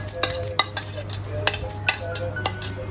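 A spoon stirs and mixes a spiced potato filling for a veg cheese frankie in a pan, with repeated close clinks and scrapes against the metal over a low sizzle.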